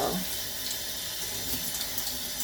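A kitchen tap runs steadily into a sink while vegetables are rinsed under it, a constant close hiss of flowing water with slight splashing and nothing else.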